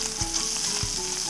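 Bacon and garlic fry in a pan with a steady close crackle and sizzle, plus a couple of soft bumps from stirring.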